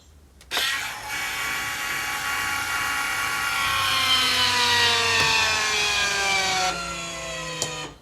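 Caravan motor mover roller driving onto a tyre: a steady, loud electric motor whine with gear hum starts abruptly and runs for several seconds, pitch drifting slightly, then cuts off, with a brief click after.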